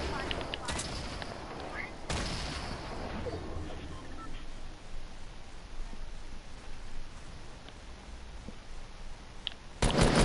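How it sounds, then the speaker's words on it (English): Grenade launcher fire in a first-person shooter video game, heard as loud broadband blasts and bursts over a constant noisy game backdrop, with a strong hit near the start and another at the very end. "This is me with a grenade launcher."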